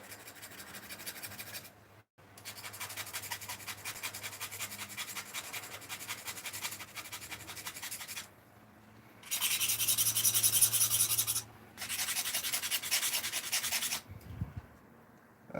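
Knife scraping the bark off a wooden flute, a close, steady rasping in long strokes broken by short pauses, with louder, harsher bursts toward the end.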